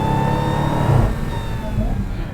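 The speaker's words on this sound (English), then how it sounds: "The supercharger sounds absolutely outrageous." A supercharged 6.2 litre Hemi V8 in a Dodge Challenger Hellcat Redeye revs hard and close, a steady loud engine roar with a brief surge near the one-second mark before easing slightly.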